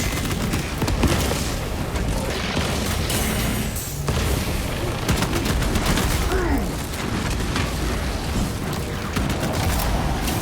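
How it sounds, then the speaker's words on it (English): Frag grenade blast in a Warhammer 40k video game, a booming explosion folded into continuous loud battle noise with gunfire and clanking mechanisms throughout. "Frag grenade out!"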